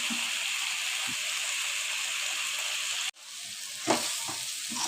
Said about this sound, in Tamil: தேங்காய் போட்டுட்டு நல்லா மிக்ஸ் பண்ணி விட்டுக்கலாம்